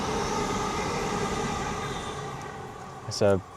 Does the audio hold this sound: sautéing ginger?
no